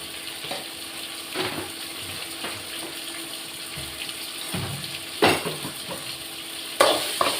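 Tomatoes, brinjal and chillies frying in a pan, giving a steady low sizzle with occasional stirring scrapes and a few louder clatters.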